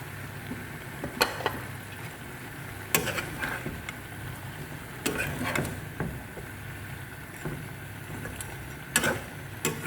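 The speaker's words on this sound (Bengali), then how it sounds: "আমি চিংড়ি মাছটা দিয়ে দিব" Shrimp sizzling in a frying pan with mixed winter vegetables, a steady low hiss broken by sharp scraping clatters of a utensil stirring every second or two, close and without talk.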